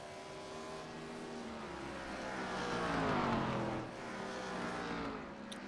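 Race cars running down the back straight at Talladega in the iRacing game, a steady, fairly faint engine drone with rising and falling pitch as cars pass, swelling briefly midway.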